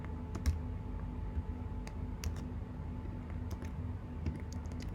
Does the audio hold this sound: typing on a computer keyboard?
yes